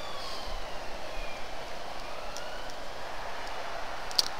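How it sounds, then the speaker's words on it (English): Distant police sirens outside, faint overlapping wails sweeping up and down under a constant background rumble, with a brief click near the end and no voices. "Sorry for the sirens."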